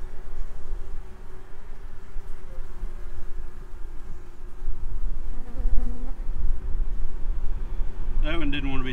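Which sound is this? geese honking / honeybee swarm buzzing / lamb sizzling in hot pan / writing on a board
honeybee swarm buzzing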